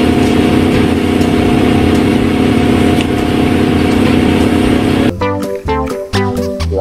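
A toy concrete mixer truck gives off a loud, continuous idling-engine rumble for around five seconds, then switches abruptly to a brief electronic tune.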